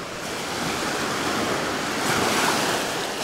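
Sea waves wash onto the shore on the Crimean coast at Ordzhonikidze, a steady broad surf wash with wind noise, swelling slightly in the second half, no voices.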